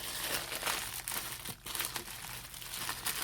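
Packaging lined with bubble wrap is cut open, producing dense, continuous crinkling and crackling plastic noise with short rustling bursts throughout, close up and without speech.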